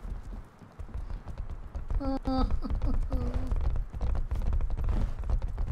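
Hooves of a horse clip-clop in a medieval video game, a quick run of sharp rhythmic beats under someone talking, with a short tonal sound effect partway through.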